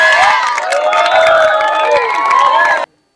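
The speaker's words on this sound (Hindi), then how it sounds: "अरे मैम के लिए भी ताली बजाओ अलग से" Students at a school organ-donation awareness event clap and cheer loudly, with excited shouting voices over the clapping, close and continuous, stopping abruptly at the end.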